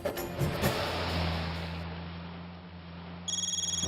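A phone's ringtone plays, a shrill electronic trill starting near the end after a low humming drone and some rustling.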